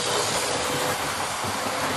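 Hornby Hawksworth County 4-6-0 model locomotive running through a layout station, a steady close rumbling and clattering rush with hiss, continuous and fairly loud throughout.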